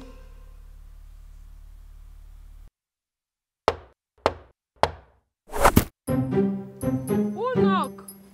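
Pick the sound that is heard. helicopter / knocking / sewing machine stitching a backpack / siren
knocking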